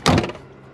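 A storage cubby in an HGV truck cab being opened, giving a single short thunk followed by a brief rattle that fades quickly, close and fairly loud with no talk.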